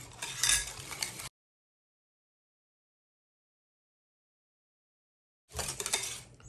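Eggs and vanilla being mixed into cookie dough in a bowl, a burst of scraping and clinking utensil sounds that stops abruptly, followed by a long silence and then another short stretch of mixing near the end.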